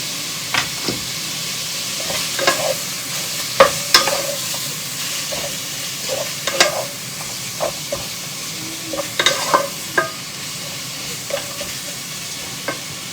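Pork seasoned with salt and pepper sizzles in a pan, a soft steady frying hiss broken by scattered clicks and scrapes of stirring, fairly quiet and without voices.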